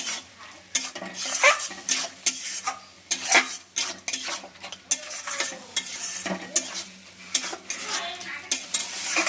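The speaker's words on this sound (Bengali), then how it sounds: "দইটা আমি ফেটে রেখেছিলাম সেই দইটাও দিয়ে দিচ্ছি এটা দইটা দিয়ে ভালো করে একটু কষিয়ে নেবো" Beaten yogurt stir-fried with spices in a pan for a jackfruit and prawn curry: a loud, steady sizzle under repeated clattering spatula scrapes against the metal pan, close by.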